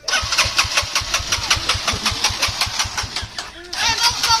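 A motorcycle engine cranks with a rapid, even chugging rhythm, loud and close, stops briefly, then fires again into a rough run.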